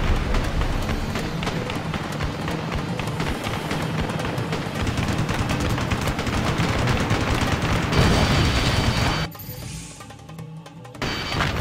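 Heavy sustained gunfire in the Ace Combat Assault Horizon combat flight game, a dense continuous rattling barrage with engine roar that drops off briefly near the end before resuming, no voices.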